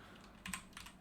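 Quick keystrokes on a computer keyboard, a short burst of a few close taps and clicks in near silence.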